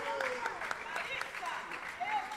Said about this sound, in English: if you can hear a lot of noise, it's because on the court next to us, Carla Oliveira just won the gold medal here